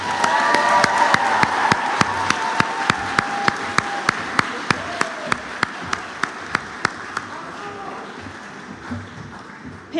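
An audience applauds BSN nursing graduates at a spring evening nursing pinning ceremony: a sustained, roomy wash of clapping with a few voices, punctuated by sharp, evenly spaced clicks, thinning and fading toward the end.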